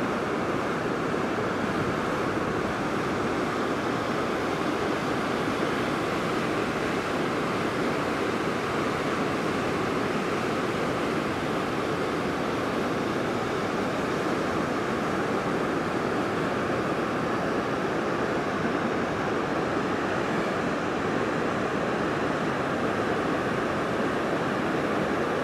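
White River Falls in the Pacific Northwest rushes in a dense, steady roar of falling water, loud and continuous with no break and no voices, with some wind buffeting the microphone.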